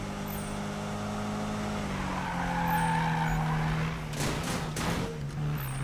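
A car drifting in Need for Speed 2015, its engine droning and shifting pitch while the tires squeal in a long skid, loud and close, with no voices.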